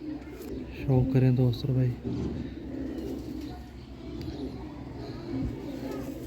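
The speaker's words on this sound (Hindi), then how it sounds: "बहुत ही नया कबूतर है।" Lahori flying pigeons on a rooftop give a few low cooing calls near the start, close and moderately loud, with someone talking throughout.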